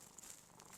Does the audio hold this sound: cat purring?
yes